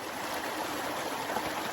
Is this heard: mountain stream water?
yes